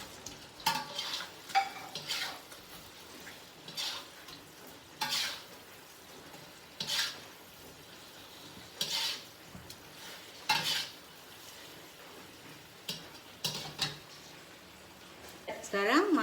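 Sugar syrup for kuih keria bubbles and sizzles in a pan while it is stirred, with periodic scraping strokes every second or two over a soft steady simmer. Someone talks quietly in between.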